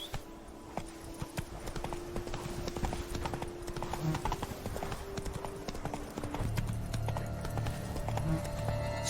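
Roach, Geralt's horse in The Witcher 3: Blood and Wine, trots with a steady clip-clop of hooves on hard ground. The hoofbeats come quick and regular under game music and ambience, and a brief voice is heard.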